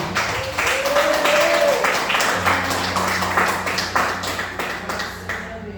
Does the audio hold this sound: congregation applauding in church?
yes